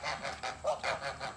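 Sebastopol goose giving a rapid series of about seven harsh honks, close and moderately loud, spaced in a fairly even rhythm with no other sounds.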